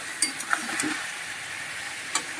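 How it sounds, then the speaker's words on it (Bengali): Vegetables stir-fried with sugar in a pan sizzle faintly, while a few sharp clicks and scrapes of a stirring utensil come through close by. "এটাকে এবার ভালো করে কষিয়ে নেবো"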